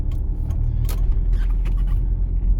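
A car turns left across the middle of an intersection on a driving exam route in Ukraine, heard from inside as a steady, close engine rumble with light rattles and no talking.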